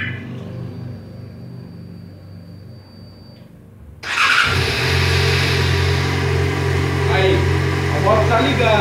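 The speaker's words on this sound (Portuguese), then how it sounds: "Agora eu vou ligar a moto à distância." After a few quiet seconds, a Yamaha XJ6 motorcycle engine is started remotely by an alarm system, abruptly starting and settling into a loud, steady running rumble, with a voice speaking faintly over it.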